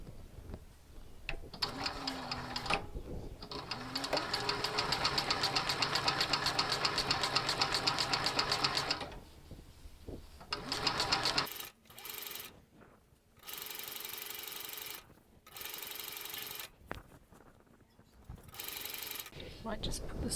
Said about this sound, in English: I'm going to sew through that, keeping this level.